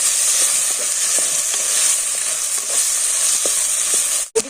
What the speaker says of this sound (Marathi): आता गाजर, वाटाणा आणि बटाटा मस्त पैकी हे पण परतून घ्यायचं ना.